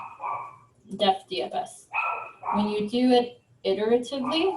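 Small pet dogs bark and yip in quick bursts in a home, mixed in with someone talking continuously.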